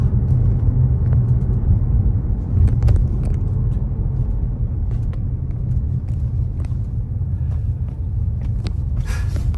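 A 2016 Mazda 6 rolls along without throttle, giving a steady, close low rumble of tyres and engine from inside the car with no talk over it.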